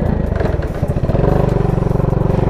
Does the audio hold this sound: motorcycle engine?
yes